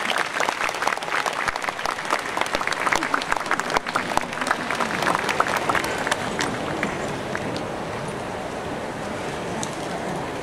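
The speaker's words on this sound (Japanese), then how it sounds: "拍手でお迎えください。" An audience at a prefectural ceremony stage event in Makuhari Messe claps steadily for a guest, dense applause that is strong at first and gradually thins and softens toward the end.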